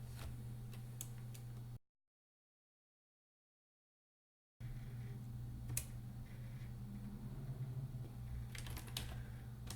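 A command typed on a computer keyboard, sparse soft key clicks over a low steady hum, broken by a stretch of dead silence before the faint tapping resumes.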